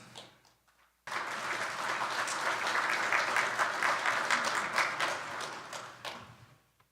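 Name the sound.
audience applause welcoming a speaker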